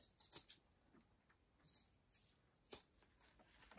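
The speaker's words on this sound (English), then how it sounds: "I'm going to cut those tabs off." Scissors snipping off fabric tabs at a sewing project, a few sharp close cuts spaced apart amid quiet pauses, with no talk.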